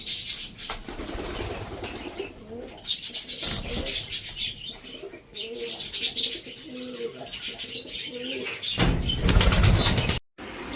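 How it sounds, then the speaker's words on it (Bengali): Lakka fantail pigeons coo in low, rolling calls close by, with bursts of wing flapping scattered through the flock's noise and no talking. "আর এই যে আমাদের লক্কাগুলো।"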